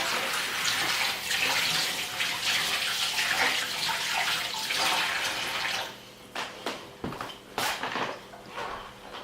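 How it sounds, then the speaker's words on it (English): Warm water runs from a kitchen tap over hands for several seconds, a steady broadband splash, then breaks into uneven splashes and drips as the hands move under the stream before it stops. "I'm just going to wash my hands off. Some warm water due to the butter."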